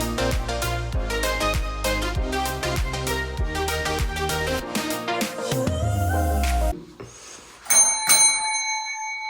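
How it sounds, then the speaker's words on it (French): A small doorbell in a home entrance rings as a series of bright electronic chime tones in a quick repeating melody, fading to a last few clear dings that ring out, loud and close, with no talking. "On a une petite sonnette dans l'entrée et c'est très efficace."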